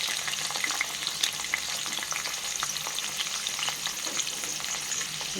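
Carrot, capsicum and other vegetables for a vegetable pulao frying in a pan, a dense, continuous crackling sizzle with small pops throughout, close and steady with no voices.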